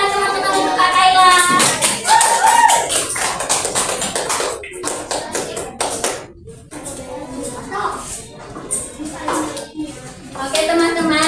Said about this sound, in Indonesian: Tepuk tangan teman-teman untuk Kak Kaila.